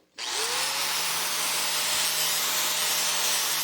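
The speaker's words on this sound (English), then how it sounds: "get it in there again with another flap wheel. Just kind of clean up some of the slag" A flap wheel on a grinder cleans slag from welds on steel angle salvaged from a junk pile, a loud, steady, continuous abrasive roar that starts abruptly and holds without pause.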